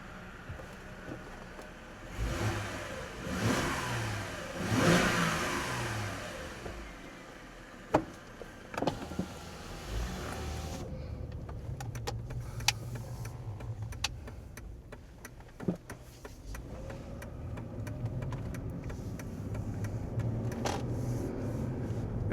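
A Mercedes-Benz E280 W211 engine builds revs inside a tunnel, its rising note echoing off the walls with a few sharp clicks and thumps along the way, then settling into a steady drone.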